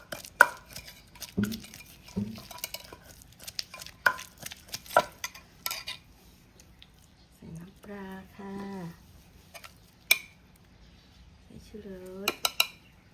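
A knife chops chili peppers on a board in a home kitchen, with bursts of quick sharp cuts between clinks of pots and utensils, close and fairly loud, while someone talks at times.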